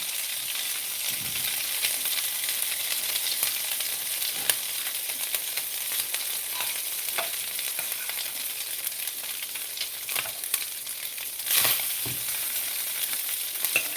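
Fried rice frying in a pan on the stove, giving a steady dense sizzle throughout with occasional scraping stirs and one louder clatter near the end.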